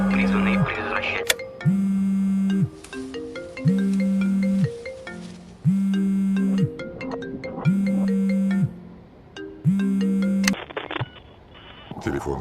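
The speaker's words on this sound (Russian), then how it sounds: "Телефон звонит" A phone rings with a bright melodic ringtone, a loud, close phrase repeating about every two seconds for several cycles before cutting off abruptly.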